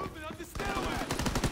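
Rapid bursts of PPSh submachine gun fire in the Call of Duty WWII video game, a fast rattling string of shots in the second half after quieter game sounds, with faint talk mixed in.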